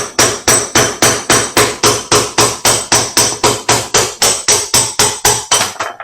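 Steady, loud metallic hammer blows knocking out the drum bearing of an LG commercial washing machine, struck in a fast even rhythm about three times a second, with no speech.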